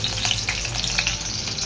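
Hilsa fish frying in a pan, a steady close crackle and sizzle of hot oil with small bursts of spitting, no voices.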